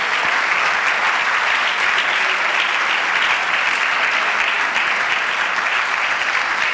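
A Sunday school church congregation bursts into loud, steady, dense applause that holds evenly for several seconds without letting up.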